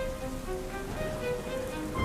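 Heavy rain at a railway platform: a steady hiss of downpour with faint tonal sounds mixed in, at an even level throughout.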